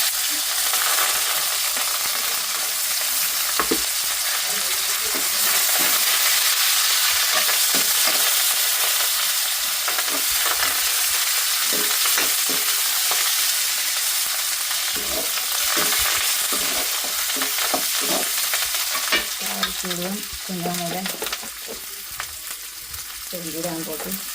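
Food sautéing in a pan, a loud continuous sizzle and hiss throughout with scraping stirs and clinks of a utensil, no one speaking.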